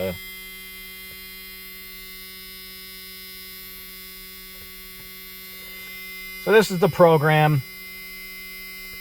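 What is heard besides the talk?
electrical buzzing with car ignition key on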